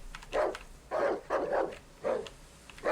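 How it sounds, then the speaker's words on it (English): A dog barks in the horror video game Darkwood, four or five gruff barks at an uneven rhythm, fairly close and loud over a quiet background. "I heard a dog."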